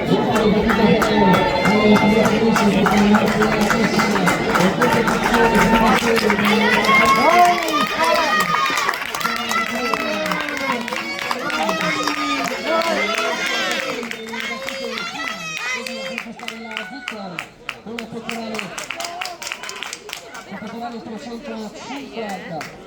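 Crowd cheering and clapping trackside near the finish of a women's 800 m race at a Rodengo Saiano athletics meet. Dense, loud applause and shouting fill the first half, then thin out into scattered voices under steady chanting-like calls.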